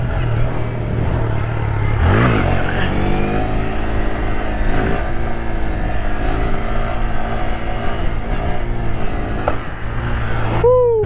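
A motorcycle engine revs and roars up close during a little wheelie. Steady wind and road noise run underneath, with the engine's pitch rising and falling.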